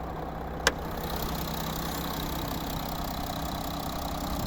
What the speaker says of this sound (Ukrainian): Зараз подивимося, як працює двигун